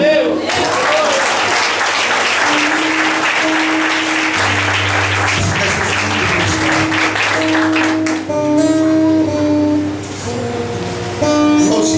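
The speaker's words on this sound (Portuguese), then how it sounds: "Aplauda ao Senhor." A church congregation claps steadily and loudly for the full span, a dense continuous wash of applause, with a sustained electronic keyboard tone and amplified sounds mixed in underneath.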